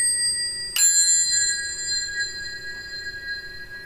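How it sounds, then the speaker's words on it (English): A bell tree of eight bells struck and waved, giving a bright shimmering ring that sustains and slowly fades, sounding close and clear with no talking. "Okay, it's called a belltree."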